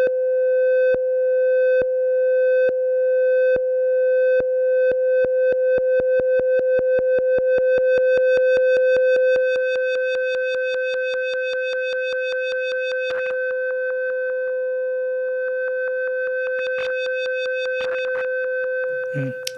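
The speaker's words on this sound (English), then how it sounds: "modulating the filter cutoff frequency" An ARP Odyssey synthesizer tone with its filter cutoff swept by a low-frequency oscillator, a steady sustained pitch pulsing in rapid rhythmic bursts that speed up, then smooth into a continuous buzzy drone, loud and close with no talk.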